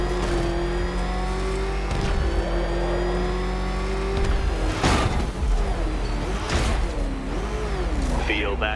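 The Batmobile engine whines and revs as it drives in the video game Batman Arkham Knight, a steady tonal drone with pitch swings and whooshing bursts, partly under a spoken voice.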